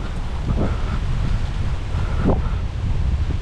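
Strong wind buffets the microphone at the seashore in Hut Bay, Little Andaman, a constant loud rumbling roar with surging gusts and faint surf mixed in.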